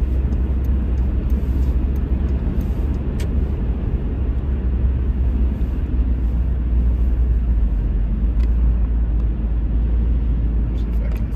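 Interior of a car driving from Paterson to Montville, New Jersey: a steady, loud low road rumble and engine drone that continues unbroken, with faint intermittent clicks and rattles.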